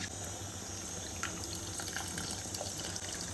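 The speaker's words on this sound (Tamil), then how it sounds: "தண்ணி விட்டுட்டு உடனே நம்ம புளியை கரைச்சி ஊற்றிடலாம்." Dissolved tamarind water pours into a pot of cooking pumpkin curd dish, a steady soft splashing and trickling stream heard close and alone.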